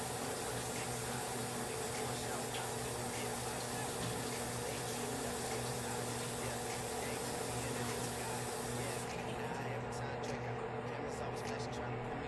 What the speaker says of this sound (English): Rinse off everything that you use. It's important. I rinse with cold water.